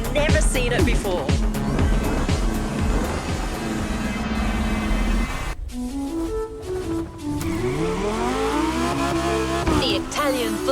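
A Lamborghini Terzo Millennio engine in The Crew Motorfest revs loud and close, rising and falling through gear changes, with tire squeal and a short drop before it winds up again, all under music.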